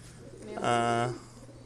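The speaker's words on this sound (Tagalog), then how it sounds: "ito yung ibon na ibaband natin" A pigeon held for leg banding gives a single short, clear coo, fairly close and moderately loud against a quiet background.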